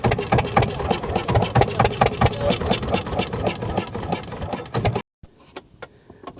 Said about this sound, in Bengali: নৌকাতে সমস্যা, বারবার এই আমাদের ইঞ্জিন বন্ধ হয়ে যাচ্ছে।